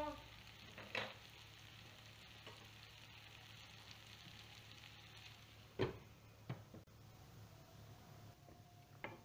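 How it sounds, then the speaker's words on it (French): Small potatoes browning in a frying pan with a steady, quiet sizzle, broken by a few sharp knocks and scrapes of a utensil against the pan. "je vais faire revenir mes petites pommes de terre"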